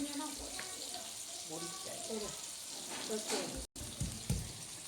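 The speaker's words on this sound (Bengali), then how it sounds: "এই যে শাশুড়ি মা এখানে রান্না করছে, আলু ভেজে নিচ্ছে" Potatoes fry in a pan with a continuous sizzle and occasional stirring clatter, while a person talks over the cooking nearby.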